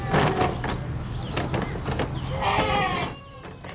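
A goat bleats loudly and close, with wavering, quavering calls over busy background noise, the calls swelling toward the middle and fading near the end.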